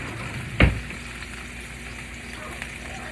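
Burger patties fry in a pan at home with a steady, low sizzle that runs throughout, and one brief louder scrape or clatter comes near the start.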